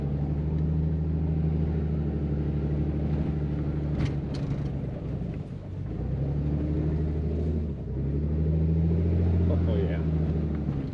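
Truck engine rumbles steadily as it crawls along a narrow, slippery snowy trail in four-wheel drive, a low continuous drone with brief dips, with someone talking over it.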